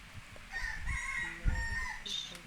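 Rooster crowing, a drawn-out cock-a-doodle-doo call rising and falling over about two seconds at moderate distance, with a brief second call near the end and faint background noise.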